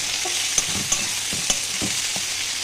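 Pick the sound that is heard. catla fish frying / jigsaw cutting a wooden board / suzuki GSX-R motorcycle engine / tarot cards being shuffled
catla fish frying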